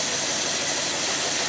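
An engine fitted with a Carter WCFB carburetor roars loudly and steadily as it starts, a dense continuous rumble with hiss and no voices.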